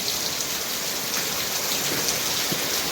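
Steady rain falls on a farm field with eggplant and papaya beds filling with water, a continuous hiss of drops striking the ground with no one speaking.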